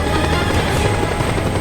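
A Chippewa helicopter armed with rockets in Just Cause 2 sends out a loud, continuous, close-up rotor thrum with no pause.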